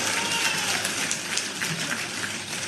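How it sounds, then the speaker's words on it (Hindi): An audience at an airport foundation-stone ceremony applauds in a sustained, dense patter of clapping, steady and fairly loud from start to finish. "तय दिल से तालियों की गड़गड़ाहट से शिवराज सिंह जी का हम लोग धन्यवाद।"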